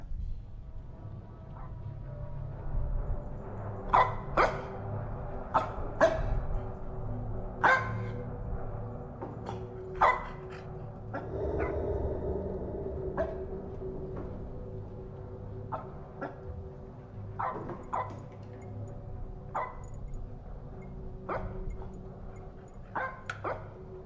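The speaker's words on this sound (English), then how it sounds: "The dog's awake." Dog in the horror video game Supernatural barking repeatedly in sharp, irregular bursts, some yips and whimpers among them, over a low droning game ambience.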